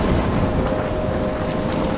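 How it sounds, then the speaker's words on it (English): Thunderstorm in the video game Life is Strange: a steady wash of rain and low rumbling thunder fills the scene, dense and continuous, with no voices. "I'm trapped in a storm?"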